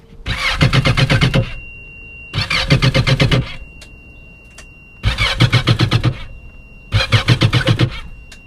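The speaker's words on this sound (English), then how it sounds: "now we are ready to turn the engines over without starting them" Yamaha marine engines crank in four bursts of rapid, rhythmic chugging, each lasting a second or so, with short pauses between and none catching to run, turned over without starting after fogging.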